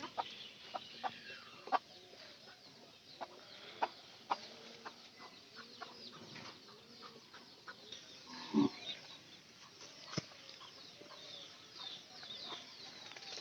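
Hens cluck and cackle softly at a moderate distance, with scattered clucks and a brief flurry of wing flapping midway.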